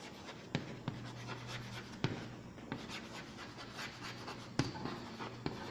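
Writing on a classroom board with quick, scratchy strokes and sharp taps as the marker or chalk meets the surface, accompanied by a steady low hum in the background.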